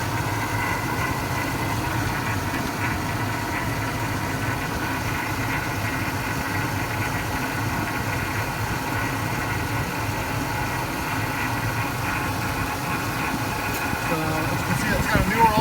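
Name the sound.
2004 Cadillac Escalade engine idling during engine test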